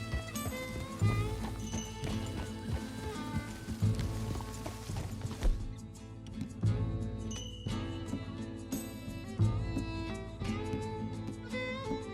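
A horse gallops at a steady clip-clop rhythm while ridden in Red Dead Redemption 2, loud and close under game music, with an occasional whinny.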